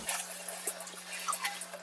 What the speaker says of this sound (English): I can just run a little bit of cool water over them to help them cool down a little